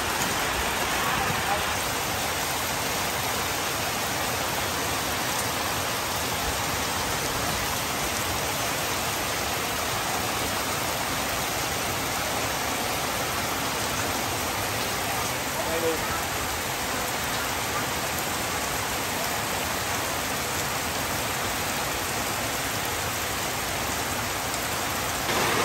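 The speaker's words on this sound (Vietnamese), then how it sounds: "Quá xá trời mưa luôn à." Heavy rain pours down steadily, a dense unbroken hiss of water on surfaces, loud and constant throughout.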